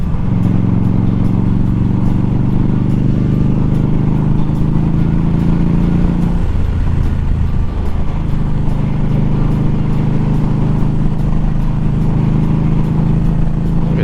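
An Indian Scout motorcycle ridden along backcountry mountain roads, its engine a loud steady drone heard from onboard, dipping briefly as the revs shift midway before settling back into a constant cruise.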